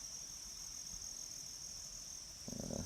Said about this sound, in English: You can probably hear it, along with some crickets.